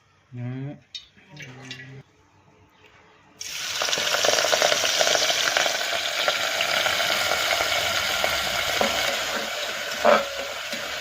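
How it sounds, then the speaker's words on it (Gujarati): Fenugreek leaves fry in a generous amount of oil, giving a dense, steady sizzle that starts abruptly and continues loudly with occasional stirring clatter. A voice talks briefly just before the frying starts. "જો મેથી મસ્ત તેલમાં થોડીને શેકી દીધી"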